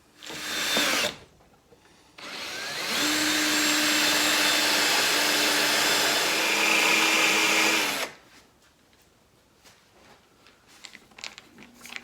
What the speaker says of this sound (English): Now we'll drill those holes.